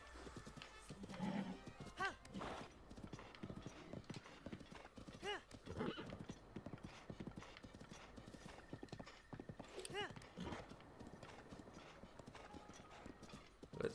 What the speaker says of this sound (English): Whoa, this is a crazy horse.